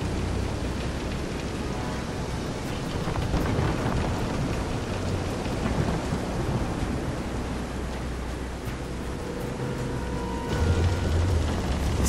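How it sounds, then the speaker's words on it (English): A storm at sea in Visions of Mana, with a boat pitching in heavy rain: dense, steady downpour hiss and rumbling thunder swell and roll for twelve seconds, and no one speaks. "This is some storm."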